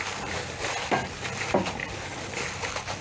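Hands mixing cabbage and turnip in a container: close, soft rustling and squelching with a couple of brief sharper rustles, steady and quiet, no voices.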